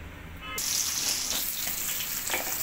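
Onions hit hot oil and break into a loud, steady sizzle after a brief quiet moment, crackling close by for the rest of the stretch.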